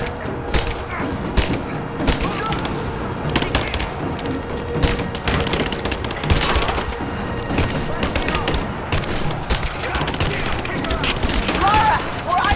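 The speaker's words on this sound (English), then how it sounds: "Laying down covering fire!" Sustained gunfire in Rise of the Tomb Raider, with rapid overlapping shots and bursts crackling through a chaotic firefight, mixed with shouting voices and mechanical clatter over nearly thirteen seconds.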